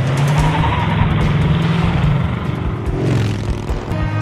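A car engine roars continuously during a chase in an animated scene, loud and sustained with fluctuating revs and a hint of tire noise.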